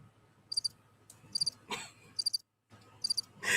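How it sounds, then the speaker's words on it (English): Cricket chirps in short pulsed bursts, repeating in a steady rhythm several times, clear and fairly close over a low background hum, with no speech. "That's what they be hearing. That's what they be sounding like, the crickets."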